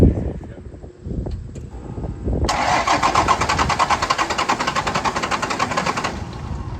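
A seized-up, flooded Dodge W350 12-valve diesel, sitting unused for a decade, cranks with uneven grinding, then runs into a loud, fast rhythmic starter-and-engine chatter for several seconds before cutting out.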